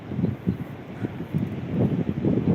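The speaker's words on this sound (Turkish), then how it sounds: "Bir anda yaklaşık yarım saattir bir rüzgar çıktı." Wind picking up by the sea near a harbour, a soft steady blustery rush with low gusting rumbles buffeting the microphone, no speech.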